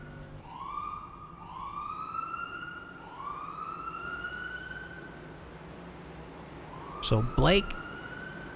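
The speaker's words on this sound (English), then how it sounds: "Getting a ride here with the ambulance." An ambulance siren wails in repeated rising sweeps during a Cup Series stock car race at Bristol, sounding steady over the crowd and track noise, with a sharp burst of louder noise near the end and a commentator talking over it.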